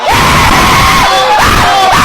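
Loud, sustained human screaming lasting about two seconds, with wavering high cries and a crowd-like wash of yelling behind it.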